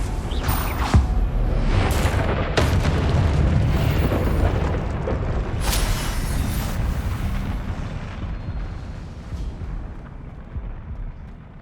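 A fire spell blasting in Hogwarts Legacy sends out a loud, continuous roar of explosive bursts with sharp cracks early on, then rumbles off as it fades toward the end.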